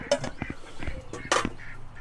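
Pair of farm ducks, one female, giving a string of short honking quacks at close range, several separate calls spaced irregularly with a louder burst near the end.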